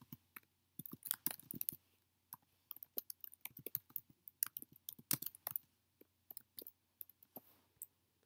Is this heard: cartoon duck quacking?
no